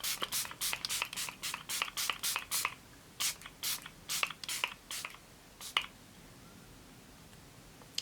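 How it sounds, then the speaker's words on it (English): A facial mist spray bottle mists in a long series of quick, sharp spritzes, bursts of rapid pumps separated by short pauses, close by with no talking. "I am gonna hit my skin with the Pure Miracle Mist Hydrating Facial Spray."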